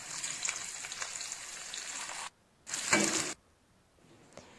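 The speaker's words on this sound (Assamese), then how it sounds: "এতিয়া আমি সেই ফ্ৰাই কৰা তেলতে আলুখিনি ফ্ৰাই কৰি ল'ম" Potato pieces fry in hot oil with a steady broadband sizzle, cut by a brief silence, then a louder burst of crackling before the sound drops away to near quiet.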